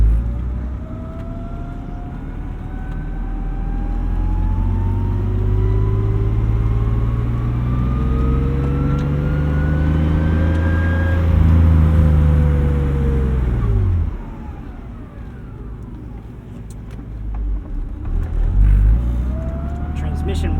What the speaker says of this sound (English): Transmission whines like a supercharger.